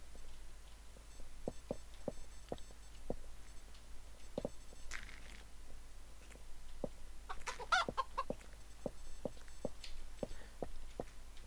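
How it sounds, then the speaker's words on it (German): Chicken in the Minetest game MineClone 2 gives a series of short, evenly spaced clucks, some close and some fainter, over a quiet low background hum, with a brief busier burst of game sound in the middle. "Nein, ein Huhn."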